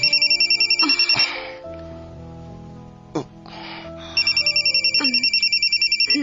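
A cellphone ringtone sounds for an incoming call, repeating tonal bursts at the start and again at the end, with a short gap and quiet room sounds in between.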